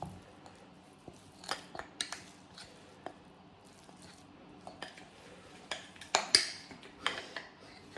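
A spoon stirs a thick, creamy lamb marinade in a bowl, making scattered soft clinks, scrapes and wet squelches at close range in an otherwise quiet room, with no talking.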